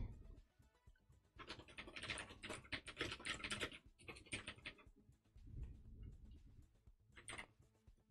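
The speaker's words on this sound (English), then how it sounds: "can I please type in reset?" Computer keyboard typing in close, quick bursts of clattering keystrokes with short pauses, fairly faint, with no speech.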